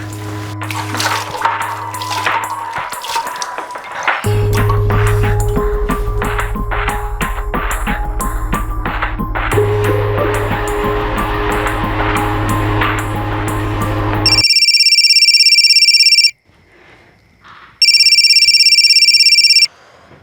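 A landline phone rings with repeated electronic tones, going unanswered, over background music, with the final bursts loud and close.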